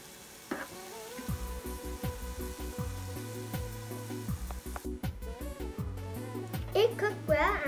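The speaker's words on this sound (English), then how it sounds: "Keep stirring until it becomes golden brown." Gulab jamun balls made with mawa, or khoya, fry in hot oil and are stirred until golden brown, giving a steady close sizzle broken by soft scraping strokes.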